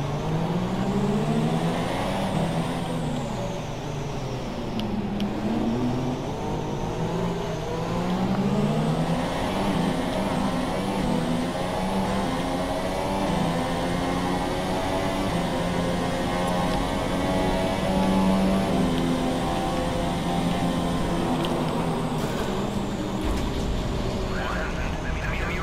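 Racing car engine from the F1 2017 video game at the Abu Dhabi Grand Prix, a steady high revving whine with rising and falling gear pitch that runs loud throughout, with a crash near the end.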